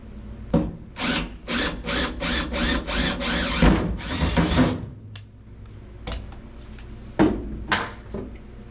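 A power drill bores into a 1955 Chevy while a roll bar is fitted, with a run of about eight short, loud whirring bursts followed by a few sparse, quicker taps and spins.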